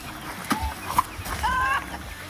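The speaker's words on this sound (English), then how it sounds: "These are laying hens." Laying hens cluck a few times, close by, amid rustling and low background noise in an enclosed space.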